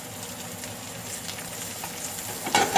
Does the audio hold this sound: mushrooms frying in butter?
yes